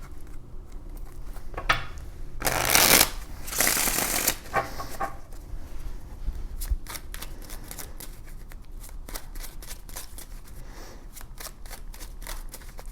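Tarot cards shuffled by hand for a clarifier draw, a soft riffling and flicking that peaks in a dense burst of rapid shuffling, then settles into scattered light taps and slides of the cards, fairly close with no talking.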